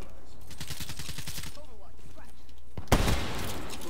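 Gunfire in a Black Ops 3 Domination match on Nuketown: a rapid run of shots early on, then a loud close burst near the end, mixed with game sounds and talk.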